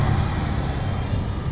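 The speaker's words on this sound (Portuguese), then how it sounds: "Passou um caminhão aqui quase arrebentando o drone com a corrente de ar." A truck passes close by on a road, producing a brief, steady roar of engine and tire rumble mixed with a strong rush of air.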